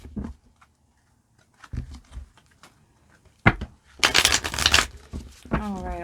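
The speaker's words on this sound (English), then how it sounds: "I'm going to grab 2 shuffles here." A deck of tarot cards is handled and shuffled: scattered soft taps and flicks, then a dense riffle burst of about a second, close up, with a voice speaking briefly afterward.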